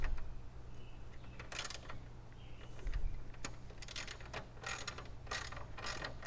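Self-tapping screws being driven into the plastic gauge cluster housing of a 1972 Chevelle SS, heard as bursts of close ratcheting and clicking mechanism noise over a steady low hum, with no talking.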